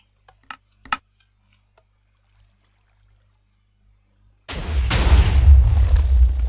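A TNT cannon in Minecraft, loaded with 34 blocks of TNT per dispenser: a few sharp clicks and pops, a long quiet pause, then a loud, sustained booming explosion that rumbles on to the end.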